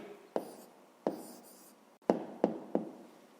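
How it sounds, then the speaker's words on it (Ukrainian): A pen writes down an answer to a fifth-grade math exercise, a few close, quiet taps and short scratching strokes on paper, spaced irregularly. "Записуємо відповідь."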